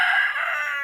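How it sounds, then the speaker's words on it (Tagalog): A brief, loud, nasal rooster crow heard up close, drawn out and slightly fading. "Saba kay ni iyang manok guys."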